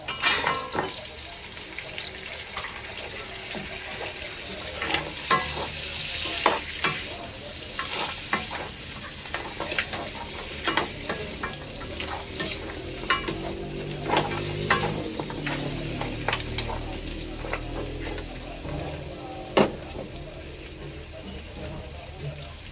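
Beef frying in a pan for caldereta, a steady close sizzle broken by frequent scraping and clinking as it is stirred, with a voice speaking now and then over the cooking.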